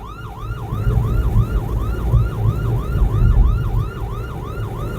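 An ambulance siren wails in a steady repeating rise and fall as the ambulance pushes through heavy city traffic, the whoops loud and close over a dense rumble of engines.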